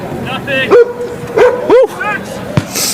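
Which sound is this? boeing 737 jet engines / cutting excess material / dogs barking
dogs barking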